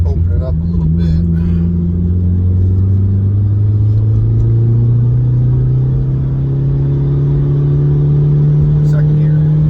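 A Mitsubishi Evo 6 pulls hard in second gear on the road, its engine note rising steadily in pitch, loud and close from inside the car, with a voice briefly at the start.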